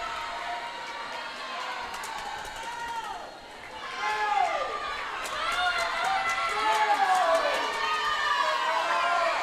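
A swim meet crowd at a girls' high school race cheers and shouts continuously, with many overlapping high voices rising and falling, loud and echoing in an indoor pool.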